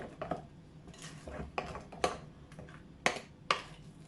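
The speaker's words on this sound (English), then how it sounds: "Mix that all in." A spoon stirs banana fritter batter in a bowl, giving scattered clinks and taps of utensil against the bowl at an uneven rhythm, close and fairly quiet, with no talking.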